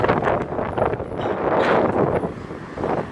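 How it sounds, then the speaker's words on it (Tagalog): Gusty wind buffeting the microphone in a continuous roar in Ängelholm, Sweden, swelling and easing over a few seconds, no voices. "Mahangin talaga."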